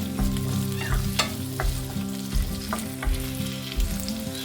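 Ridge gourd and garlic fry in hot oil in a pan, with a steady close sizzle broken by repeated rhythmic stirring scrapes and a few sharp clinks, no voices.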